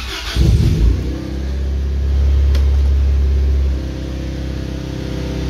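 Key-turned start of a 1994 Honda Accord with a five-speed swap: a brief starter crank catches into a close, loud rumbling idle that swells slightly, then settles steady.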